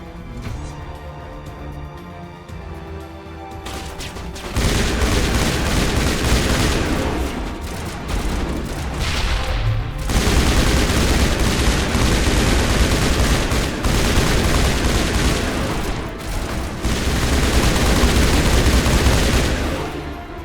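Turret gunfire during a battle on Virmire in the Mass Effect game: sustained loud bursts of rapid shots forming a dense, near-continuous barrage after a quieter start, with brief pauses between volleys.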